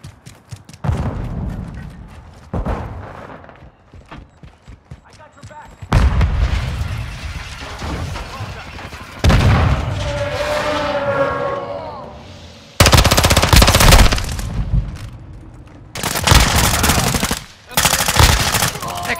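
Gunfire in Call of Duty: Modern Warfare II, repeated bursts of loud automatic rifle fire and booming shots in separate volleys, some long sustained stretches, with radio-style voices briefly in between.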